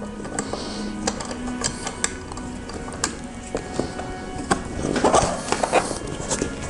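A size 5 Allen key turns out the bolts holding the rider's seat on a Suzuki GSX-S1000 motorcycle, making close, small metallic ticks and ratcheting clicks in uneven bursts, with a rustling scrape near the end.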